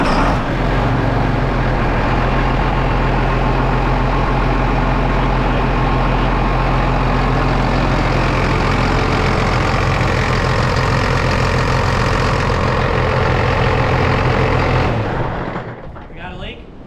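A John Deere tractor engine runs loudly at a steady idle with a constant low drone and rattle for about fifteen seconds, then cuts off abruptly.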